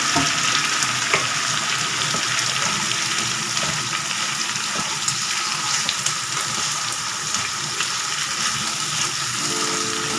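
Boiled horse gram sundal with dried red chillies roasting in a pan, giving a loud steady sizzle and crackle with occasional stirring scrapes throughout.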